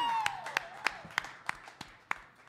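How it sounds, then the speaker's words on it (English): A few sparse, separate handclaps from a small bar audience, evenly spaced and fairly faint, trailing off after a voice at the start. "Y'all give him a round of applause."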